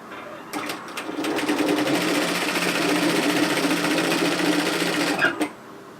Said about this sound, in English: let's just run a line of gathering stitches from the seam to the other seam